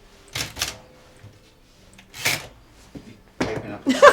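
Keys of a Quiet Deluxe typewriter are struck in short, uneven clusters of sharp clacks with pauses between them, heard up close in a quiet room.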